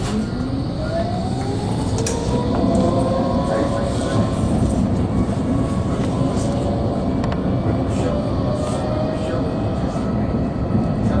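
A tram bound for Phoenix Park rolls along with a steady, loud rumble and a rising electric motor whine, continuous throughout, with faint voices in the background.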